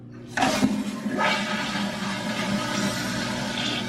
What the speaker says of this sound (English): Okay, this is what it sounds like when you flush it.